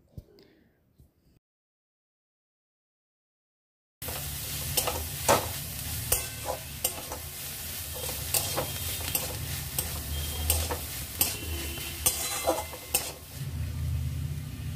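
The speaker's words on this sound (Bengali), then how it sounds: "একবার ঢাকনা খুলে নাড়াচাড়া করে দিচ্ছি, যাতে তলায় ধরে না যায়।" Radish greens fry in a pan after a second of near silence, with a dense continuous sizzle as a spatula stirs and scrapes repeatedly against the pan bottom, close and steady.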